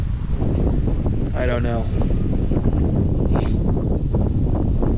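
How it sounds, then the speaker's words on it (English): Strong cold wind buffets the microphone outdoors, a constant loud roar with gusting rumble throughout, while someone speaks briefly over it. "The wind is blowing."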